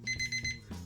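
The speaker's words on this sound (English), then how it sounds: "And there's the timer." Electronic timer beeping at a craps table game, a short run of rapid, bright repeated beeps close by over a low hum of room noise.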